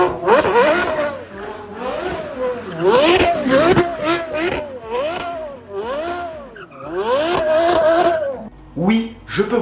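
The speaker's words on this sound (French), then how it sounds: "avec le son du V10 qui fait partie des plus beaux sons de l'histoire de l'automobile" A Porsche Carrera GT's V10 engine revs repeatedly, rising and falling in a series of sharp, howling pulls while driving with the top down, loud and close, with someone talking over parts of it.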